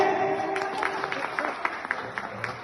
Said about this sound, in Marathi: एवढ्या शुभेच्छा दिल्यानंतर लोक टाळ्या वाजवत नाही तर टाळ्या वाजल्या